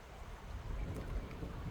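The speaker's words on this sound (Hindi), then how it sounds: "बारिश हो रही है, मस्त है।" Steady rain falls outdoors over open farm fields, a dense continuous hiss with low rumbling underneath, close and even throughout with no voices.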